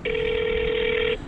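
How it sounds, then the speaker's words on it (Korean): A phone call ringing tone, placed while arranging a designated-driver job: one steady, unbroken electronic tone held for just over a second, clear and alone with no talk. "전화 한번 해볼게요"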